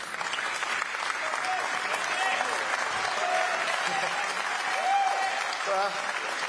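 A summit audience at the Gavi vaccine pledging event applauds as Global Citizen co-founder Mick Sheldrick is welcomed to the stage, a continuous, even wash of clapping from a large crowd, steady and full throughout.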